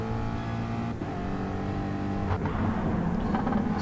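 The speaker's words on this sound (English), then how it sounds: "This is what it was like on board. Just, he took that inside line easily, and yeah, Hatfield just had to let the car run wide" Onboard engine drone of a race car in a racing video game, a loud steady buzzing roar held throughout with small shifts in pitch and no voices.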